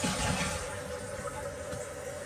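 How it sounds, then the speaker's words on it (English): A household toilet flushes while checking for a sewer smell, a steady loud rush of water that continues evenly throughout with no speech over it. "So let's flush this."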